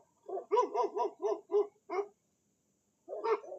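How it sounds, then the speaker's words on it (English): A dog at a fence in Middle Tennessee barks in a quick series of six sharp barks, pauses, then barks again, close and clear against a quiet background. "The dog growled at me because I'm stopped."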